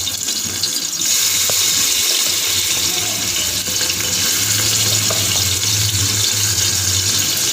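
Two tablespoons of garlic fry in hot oil for a beef qorma, producing a loud, continuous close-up sizzle that hisses steadily throughout.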